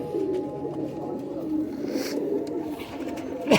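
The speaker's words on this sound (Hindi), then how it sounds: "ये काले मुंह वाले कबूतर" Soft cooing of black-faced Faqeer gull pigeons, a steady low murmur running through the whole stretch with no talk.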